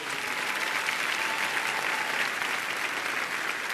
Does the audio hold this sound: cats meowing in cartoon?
no